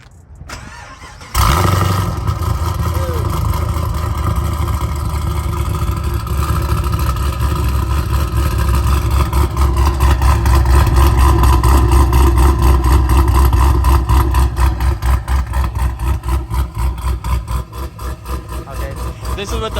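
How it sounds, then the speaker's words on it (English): A Chevy SS or Caprice sleeper cranks over and fires up loudly, then settles into a steady, deep rumbling idle that holds close and prominent with slight swells in revs. "we're just gonna do a startup of his car"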